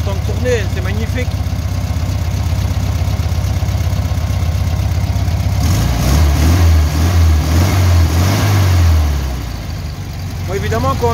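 A small Cox model engine runs loud and close with a buzzing drone. The pitch rises and shifts about midway before easing, and someone talks over part of it.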